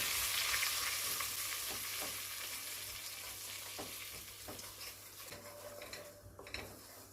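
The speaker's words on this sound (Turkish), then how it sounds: "Ve birlikte unu kavuruyorum." Flour toasts in a pan for a hearty winter soup, a bright steady sizzle with scraping stirs and light utensil taps against the pan, close up and fading slightly toward the end, with no talk.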